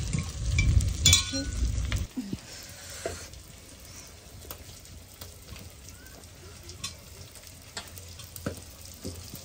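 Onions drop into hot oil for a goat meat curry, giving a loud sizzle for the first two seconds that settles into a quieter, steady crackle with occasional clinks of a utensil.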